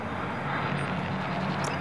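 A broad, steady engine roar fills the whole moment as an airplane passes overhead in Call of Duty: Modern Warfare, loud and continuous with no breaks.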